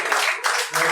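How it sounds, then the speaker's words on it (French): A stand-up comedy crowd bursts into dense, loud applause in a few quick surges of clapping, lasting about a second. "Là oui on peut m'applaudir."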